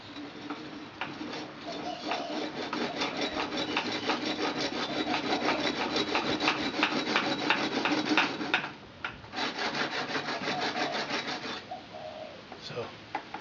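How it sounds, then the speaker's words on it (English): Steady rasping strokes of a 1/8 inch rat tail file cutting a notch into the wooden tip of a survival bow, continuous and close, with one brief pause midway and no talk. "you could also use a 1/8 inch rat tail file"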